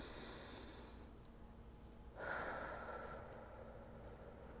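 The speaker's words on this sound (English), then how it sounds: "It's taking a deep breath." One slow deep breath taken near the microphone, a quiet airy inhale swelling partway through and fading out in a long soft exhale, with no talking.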